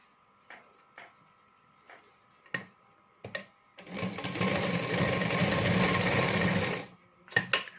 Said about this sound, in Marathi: मशीन टीप टाकत आहे